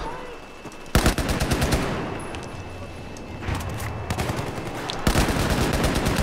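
Battlefield 4 video game gunfire in a Paris metro map, loud close automatic bursts that start abruptly, pause, then resume, with a rumbling battle backdrop and other shots further off.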